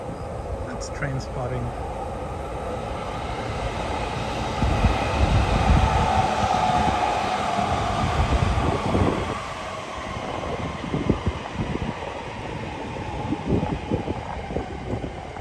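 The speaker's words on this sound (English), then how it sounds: "Train spotting." A Tokyo Chuo Line train passes near Kagurazaka with a steady rolling rumble and rattle that swells midway and then lingers, mixed with outdoor wind noise.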